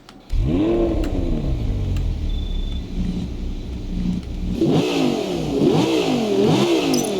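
A sports car engine in the video game Test Drive Unlimited Solar Crown revs hard, rising and falling in pitch, then revs again in repeated surges, loud and close with no talking.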